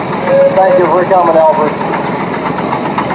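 A 1955 Minneapolis-Moline ZB tractor with factory wide front end runs in a parade, its engine rumbling steadily in the background under a loudspeaker voice and crowd noise.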